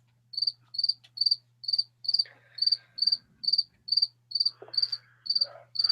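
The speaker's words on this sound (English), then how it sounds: "God, these crickets are putting me to sleep." Crickets chirp in an evenly spaced series of about a dozen short, clear pulses. They are close and steady over a low hum, with faint scattered sounds in between.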